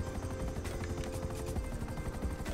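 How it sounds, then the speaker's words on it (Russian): Helicopters in GTA Online's Doomsday Heist keep up a dense, continuous rotor roar, with faint scattered impacts that could be gunfire underneath, fairly loud and steady throughout. "У вас там вертолеты?"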